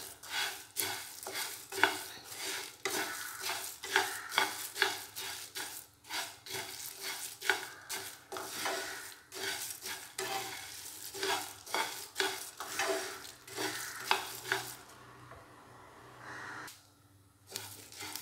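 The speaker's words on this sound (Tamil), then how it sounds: "இப்போ எல்லாத்தையும் லேசாக வறுத்து எடுத்துக்கலாம்" Fennel seeds and spices dry-roasting in a pan, a rhythmic series of close scraping stirs over a faint crackle, repeating steadily before easing off at the end.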